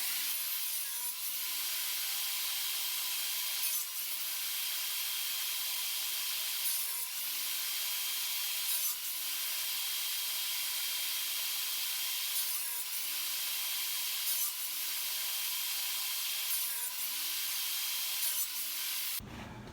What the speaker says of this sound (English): So we'll cut one, flip it over and cut the other end.